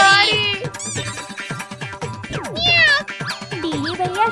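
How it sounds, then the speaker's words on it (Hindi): A cartoon cat meows repeatedly with loud, close, wavering cries, alone without any talk. "बिल्ली मौसी की आवाज आ रही है।"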